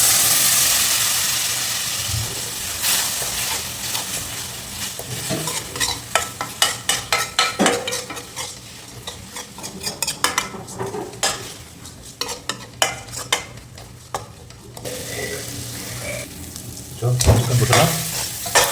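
A spoon stirs chicken gravy masala loosened with water in a hot pan, giving steady sizzling and frying hiss broken by rapid scraping clicks and taps against the metal, close and fairly loud with no voices.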